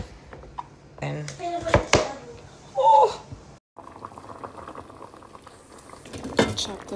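A pot of beans simmering in water bubbles and pops unevenly up close, with some brief voice-like sounds mixed in.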